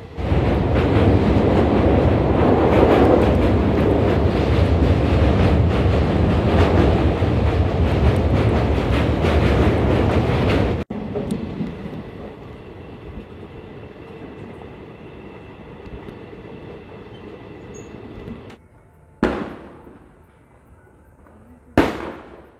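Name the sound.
Gour Express train running into Naihati station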